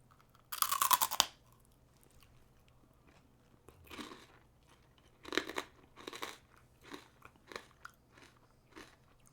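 Close, crisp crunching of blue shark gummy candy being chewed: one loud bite followed by a series of rhythmic crunchy chews, with no talking.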